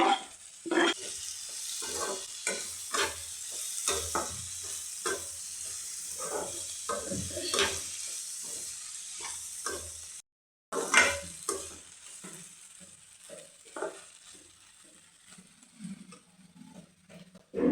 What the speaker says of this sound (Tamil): இப்போ பாருங்கள், எல்லாமே நல்லா வதங்கிட்டு இருக்கு.